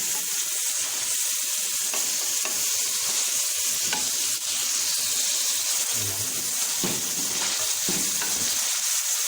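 Spices and garlic-ginger paste fry for Sindhi biryani, a loud continuous sizzle with occasional scraping stirs of the pan.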